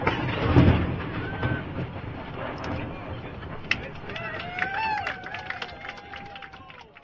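A cannon fires aboard the square-rigged cutter tall ship California, a single deep boom near the start followed by people talking and moving on deck.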